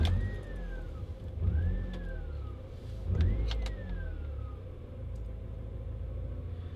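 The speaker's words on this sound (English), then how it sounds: "Alright, so hopefully it will start the first time." Honda Civic EM1 engine cranks and runs with a low, rumbling idle, its sound rising and falling in a few swells amid whiny sweeps, close by and with no speech.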